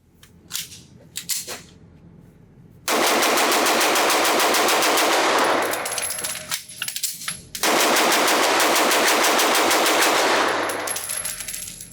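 A Staccato C pistol fired rapidly at a shooting range: two long, loud strings of fast, sharp shots in quick succession, separated by a short pause, with no talking.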